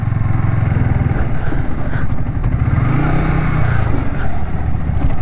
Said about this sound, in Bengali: আমিও ট্রলার বাইক উঠাচ্ছি।